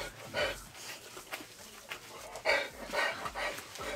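A dog pants in quick, breathy bursts, close by, with a few soft whimpery sounds mixed in and no talking.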